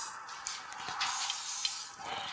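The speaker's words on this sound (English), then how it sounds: "And then I usually get some WD-40 for the hose." WD-40 sprayed onto a radiator hose on a 2016 Subaru Forester, a soft close hiss in a few short bursts over a couple of seconds with no talking.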